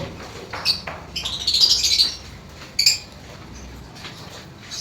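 Lovebirds in an aviary give short, high chirps and tweets in scattered bursts, with a busier cluster in the middle, over a steady low background hum.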